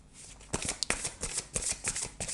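Tarot-style guidance cards are shuffled and drawn in a quiet room, giving close, crisp riffling and a series of quick papery flicks and slaps with no voices.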